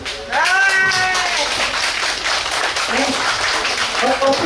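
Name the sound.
audience clapping at outdoor performance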